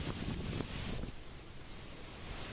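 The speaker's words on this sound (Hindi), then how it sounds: "धूल भरी आंधी, दिन में ही अंधेरा छा गया" A dust storm's wind roars in a continuous, gusty rush against the microphone, strongest in the first second and then easing to a steady hiss, with no voices.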